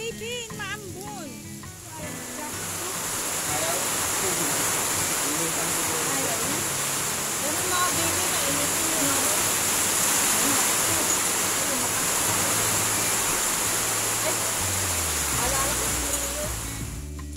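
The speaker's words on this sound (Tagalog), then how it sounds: "Lakas ng ulan guys." Heavy rain pours steadily on a rural farm in the Philippines in a dense, hissing roar that swells after a few seconds and stays loud throughout, with faint voices underneath.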